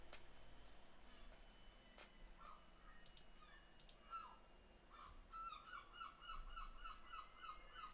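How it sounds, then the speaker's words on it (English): Seagulls calling outdoors: a run of faint, distant, repeated yelping calls in the second half, heard over low background noise. "Noisy ass seagulls."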